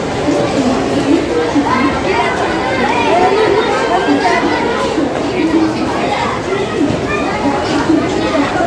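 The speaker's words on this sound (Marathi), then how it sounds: "गर्दी भरपूर आहे तिकडं पण बघा" Dense crowd chatter at a busy train station, a steady continuous murmur of many voices close around, with a louder voice speaking over it.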